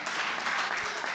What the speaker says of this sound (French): Est-ce qu'on peut l'applaudir ce soir?